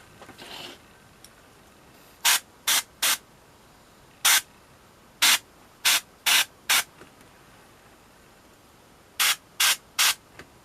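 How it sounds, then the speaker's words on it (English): An airbrush spraying Imperial blue paint onto a Blood Angels Death Company Jump Intercessor miniature gives short, crisp bursts of hissing air, singly and in quick clusters of two or three, separated by quiet gaps. "So I have the Imperial blue in the airbrush. I'm just going to get started."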